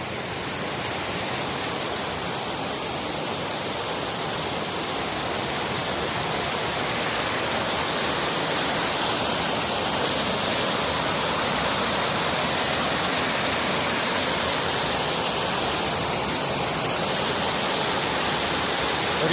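The Gromotukha river rushes in a continuous, loud, even roar of flowing water, with no pauses or voices over it.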